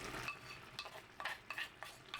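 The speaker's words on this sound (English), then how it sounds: "After 6 minutes, the rice is boiling strongly." Rice (jasmine and sticky) boiling strongly in a clay pot: a close, steady hiss broken by irregular bursts of bubbling and spitting, with no voices.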